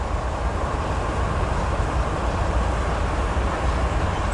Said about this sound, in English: It looks like another Z train to me